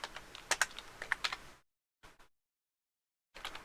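Fingers type on a computer keyboard in quick bursts of close, crisp key clicks, separated by short silent gaps.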